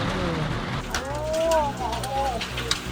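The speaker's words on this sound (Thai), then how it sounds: "โอ้ลูกเห็บตกเต็มเลย" Hail and heavy rain falling outdoors at a rural garden home, a steady dense hiss of drops throughout, with a faint voice and some tonal sounds drifting in the background.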